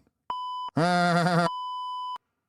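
A flat, steady censor beep sounds, breaks for a moment for a strained, groaning voice, then a second long beep follows.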